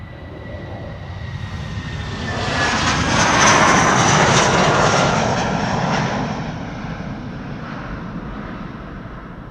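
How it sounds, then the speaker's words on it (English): A British Airways Airbus A319 takes off from Amsterdam Schiphol toward London Heathrow, its jet roar building to a loud close pass around the middle before fading off, with high engine whine audible early. "a BA A319 is taking off to London Heathrow over here"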